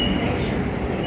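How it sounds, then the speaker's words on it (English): Passenger train riding on the rails, a dense continuous rumble with a faint high whine, heard briefly from close by. "I wish we had trains like this in the U.S."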